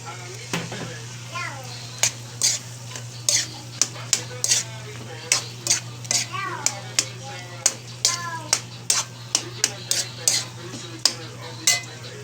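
Chili peppers cooking in a frying pan with onions, stirred with repeated sharp utensil scrapes and clacks against the pan over a steady low hum, while a person talks.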